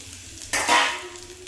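Urad dal and dried red chillies drop into hot oil, setting off a sudden loud burst of sizzling that swells and then settles into a softer, steady fry, close up with no talking.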